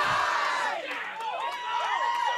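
A crowd cheers and whoops at a high school bowling championship final, loud shouting voices rising and falling together with excited yells near and throughout.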